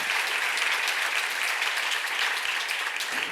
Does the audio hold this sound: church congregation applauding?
yes